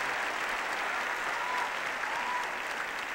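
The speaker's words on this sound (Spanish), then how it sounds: "Un aplauso para Andrés." Steady applause from an audience at an ideas festival, a dense, even wash of clapping that holds at a constant level for a few seconds with no talk over it.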